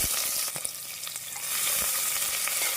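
Chopped onions for a vegetable biryani sizzle and crackle in hot oil, a steady frying hiss with occasional stirring scrapes, close and fairly loud.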